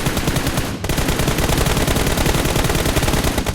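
Rapid automatic gunfire from a shooting video game, a dense, loud stream of shots with a brief break near the start, then continuous firing to the end.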